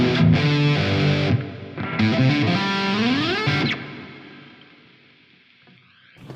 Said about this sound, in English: And then here's some reverb.